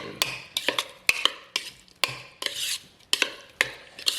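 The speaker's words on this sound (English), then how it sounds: "we're going to take our spoon and we're just going to mix these up nice and good" A spoon mixes raw shrimp with seasoning and olive oil in a bowl, giving a series of sharp clinks and wet scrapes at an uneven pace, close by with no talking.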